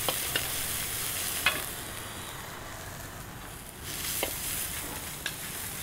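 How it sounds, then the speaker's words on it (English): Shredded fresh ginger and garlic frying in a pan, a constant broad sizzle with occasional spoon scrapes and clicks as they are stirred, close and steady. "2 tablespoons of shredded fresh ginger in with the garlic as well. And then we'll give that a stir."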